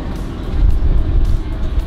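A bus rumbles along in a driving game, its low engine drone steady and fairly loud, rising and falling slightly with no talk over it.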